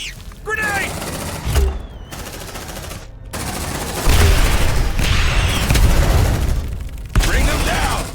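Grenade blast and rapid gunfire in Aliens: Dark Descent, loud bursts of automatic fire and booms broken by brief gaps, with creature shrieks mixed in.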